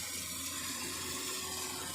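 Water runs steadily out through the float of a livestock waterer, a continuous rushing, splashing wash with no pauses.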